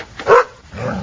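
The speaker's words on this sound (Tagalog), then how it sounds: "Galit na galit ho yata itong aso niyo sa akin, ha?" A dog barks angrily in a single loud, close burst, followed by a softer growling or whimpering tail, with no talk over it.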